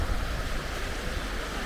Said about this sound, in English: all these crashing waves and stuff